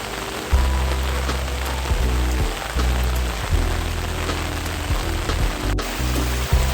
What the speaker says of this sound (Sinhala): අපිට නම් ඉතින් උදේ ඉඳන් වහිනවා